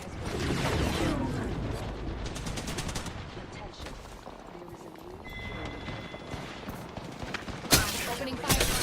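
Rapid gunfire in a video game, with bursts of automatic fire and single shots mixed with game effects, loud at first and then easing, with a sharp blast near the end.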